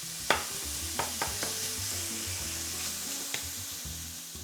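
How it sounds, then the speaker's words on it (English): Pieces of Italian sausage frying in a pan give off a steady close sizzle, broken by a few sharp scrapes and clicks of a utensil stirring them around. "Let your sausage brown in the pan in one layer."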